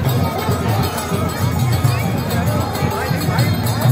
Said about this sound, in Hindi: हमने कितना भीड़ है देखिए